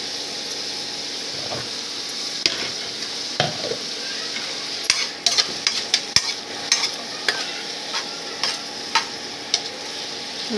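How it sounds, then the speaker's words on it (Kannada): Frying in oil in a pan while making curd rice, with a steady close sizzle under a quickening series of spoon scrapes and taps against the pan. "ಚಲೋ ಹೊತ್ನಂಗೆ ಇದನ್ನು ಫ್ರೈ ಮಾಡ್ಕೋಬೇಕು"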